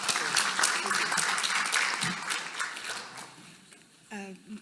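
An audience at an academic conference applauds a keynote speaker, a dense burst of clapping that gradually fades before a voice begins speaking.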